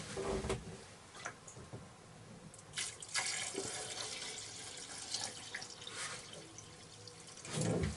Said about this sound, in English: I filled it with water to add moisture to the air inside the boat.